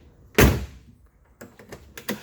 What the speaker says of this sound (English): I'm going to show you how well the doors open and close.